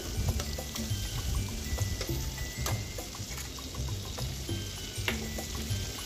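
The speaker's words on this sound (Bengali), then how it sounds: "পেঁয়াজটাও আমার মোটামুটি ভাজা হয়ে গেছে।" Onion fries in hot oil in a home kitchen, giving a steady, faint sizzle with scattered pops and light clicks throughout, and no voices.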